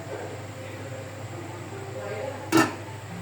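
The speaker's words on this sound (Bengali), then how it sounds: "আমি এখন এটা ঢেকে দিব" A lid is set over a large cooking pot of beef khichuri, giving a single brief metallic clank near the end after a steady background hum.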